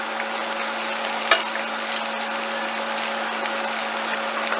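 Garlic and shallots fry in a pan with a steady, crackling sizzle. One brief clatter is heard partway through, and the sizzling stays constant and close with no talking.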